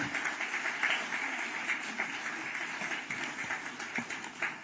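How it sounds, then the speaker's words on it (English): Audience applause at a book release event for a public health book, a steady wash of clapping from a crowd that continues evenly throughout. "let's have a huge round of applause, ladies and gentlemen, on the release of this book"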